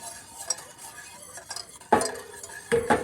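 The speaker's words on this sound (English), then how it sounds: "You want to just constantly stir" A hot bacon fat dressing with apple cider vinegar and Dijon mustard is stirred in a pan, with a spoon scraping and clinking against metal in a few bursts, close and fairly loud, alone without talk.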